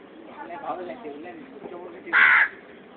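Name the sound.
myna bird imitating a crow's caw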